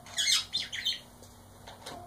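A pet bird gives a few short, high chirps in quick bursts, fairly faint and close, with quiet pauses between and no talking.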